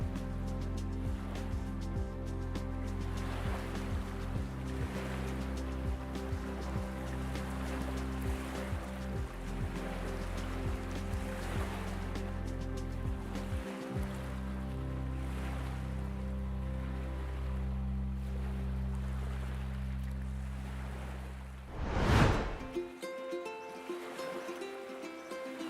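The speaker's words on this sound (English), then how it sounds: "the only sound is that of the waves" Caribbean beach waves washing ashore in Puerto Rico, a soft continuous surf wash with gentle swells, a brief louder splash near the end, heard alone and at a moderate distance.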